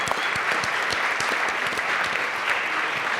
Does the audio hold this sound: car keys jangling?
no